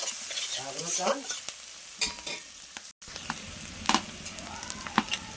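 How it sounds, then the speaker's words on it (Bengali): Chopped onion frying with cumin in a pan for a jackfruit curry, heard as a close, soft sizzle with repeated scraping stirs and clinks that come and go across the clip, with no talking. "দেখো পেঁয়াজটা আমি ভাজা ভাজা করে ভেজে নেবো"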